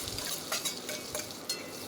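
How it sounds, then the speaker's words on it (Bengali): Finely chopped onions frying in oil for chana masala, a steady sizzle broken by repeated stirring scrapes every fraction of a second, close and moderately loud, with no talking. "এবার তেলের মধ্যে আমি দিয়ে দিচ্ছি কুচি কুচি করে কেটে রাখা পেঁয়াজ।"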